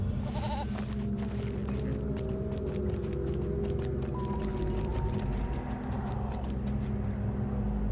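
A goat mount in the online game Lord of the Rings Online (LOTRO) bleats in short, wavering cries over a constant mechanical background hum, with no one talking.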